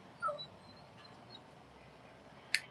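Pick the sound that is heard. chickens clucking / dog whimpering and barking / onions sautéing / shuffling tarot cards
dog whimpering and barking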